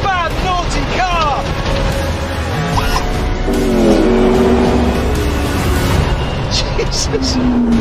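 A McLaren P1 supercar with 903 horsepower drives fast, its engine revving loudly and shifting through gears, with tyre noise and an excited voice talking over it.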